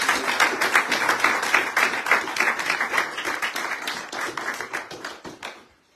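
A church congregation at a Montargis service applauds the ministers, a close, lively patter of clapping with distinct individual claps that thins out and stops after about five seconds.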